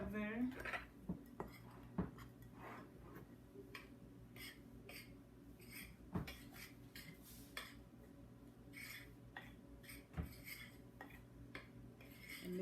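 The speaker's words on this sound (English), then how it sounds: "we're going to stir all that together" Spicy chicken sandwich breading ingredients, including baking powder, stirred together in a bowl: a steady run of scraping utensil taps and clinks against the dish, close and moderately quiet, with a few sharper knocks.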